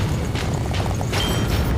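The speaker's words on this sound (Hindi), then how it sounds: "ये असली फायरवर्क्स है, ना कि प्रॉप्स।" Real fireworks going off in a series of deep booms and bursts, loud and continuous with overlapping blasts and no talk over them.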